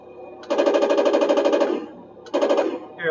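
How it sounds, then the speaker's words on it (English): A model tank's electronic machine gun effect plays as a loud, rapid rattling burst of about a second and a half, then a shorter second burst, with nobody speaking. "And then I think the machine gun's right here"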